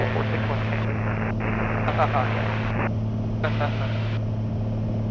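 Inside a small EAA Eagle light aircraft in flight doing Dutch rolls, the engine drones steadily and loudly with a constant low hum while a person talks over it.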